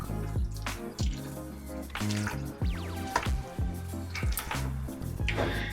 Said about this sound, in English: We'll mix everything up.